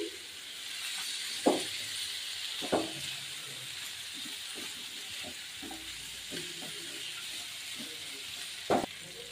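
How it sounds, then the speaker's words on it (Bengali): Potatoes with ginger and green chili sautéing in a pan with a little water and spices, a steady soft sizzle broken by a few sharp scraping stirs. "এখন একটু ভালো মতো আমি আদা কাঁচা লঙ্কাটা আলু সমেত কষিয়ে নিচ্ছি"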